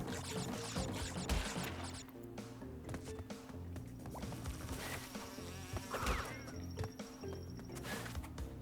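Bees buzzing in the Crash Bandicoot 2 level of the N. Sane Trilogy, a continuous insect hum mixed with busy game music and scattered effect sounds.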